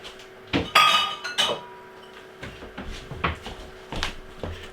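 Glasses clink and knock on a hard surface, with a bright ringing clatter early on followed by several lighter taps and bumps at uneven intervals, close up and without talk.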